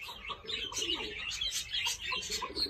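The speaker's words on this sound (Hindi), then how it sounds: "वैस भाई ने दरवाज़ा खोल दिया और ये रहा कबूतर, ये तो खुद ब खुद अंदर चला गया है।" Pigeons coo softly in repeated low murmurs with a few light chirps, close by and steady throughout.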